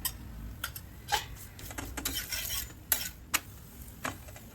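Paratha roasting in oil on a pan over low gas, a faint sizzle broken by irregular scrapes and clinks of a spatula, close and fairly quiet.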